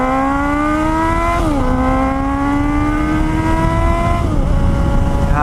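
A 2018 Suzuki GSX-S 750 motorcycle engine burbles and drones steadily up close, its pitch climbing gradually with two brief dips as revs shift, loud and unbroken with no talking.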